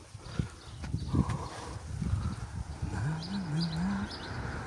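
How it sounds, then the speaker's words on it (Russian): Faint birds chirp in the distance as a horse's hooves clop nearby on an early-morning walk and a low voice hums briefly. "Птички поют."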